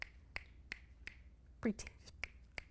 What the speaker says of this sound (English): Can you snap your fingers?